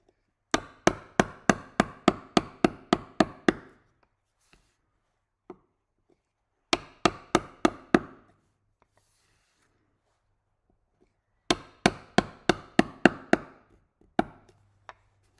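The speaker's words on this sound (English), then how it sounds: "A loose but steady grip on my gouge. And just tap with the mallet." A mallet taps a woodcarving gouge into timber in three bursts of sharp, evenly spaced knocks, about eight to ten strikes each, close and crisp with silence between, plus a few isolated taps.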